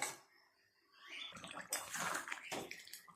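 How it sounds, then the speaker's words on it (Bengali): A snakehead fish curry with potatoes bubbles and boils in a pot, a quiet, watery churning that grows busier and louder after the first second. "এখন বেশ কিছুটা সময় নিয়ে ফুটিয়ে নেব ভালো করে।"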